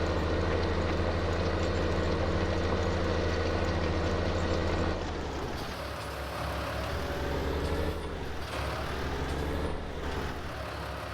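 Tractor engine in the video game Farming Simulator 19 runs at a steady, loud drone, then drops to a lower idle halfway through with slight pitch shifts, no voices.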